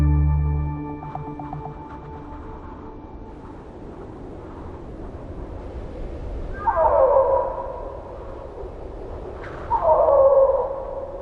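Snow leopards call out during the winter mating season in Mongolia's Altai, two drawn-out wailing cries a few seconds apart, moderately loud against a quiet, low background with a soft musical tone early on.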